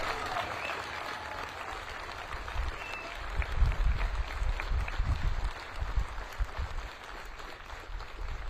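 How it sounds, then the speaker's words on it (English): An audience at a military ceremony at Fort Bragg applauds paratroopers recognised for their performance in competition. The clapping is broad and steady, fills the whole stretch and swells slightly midway with a soft crowd murmur. "Please join me for a round of applause in recognizing these exceptional paratroopers."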